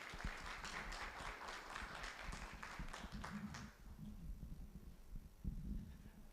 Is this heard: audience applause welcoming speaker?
yes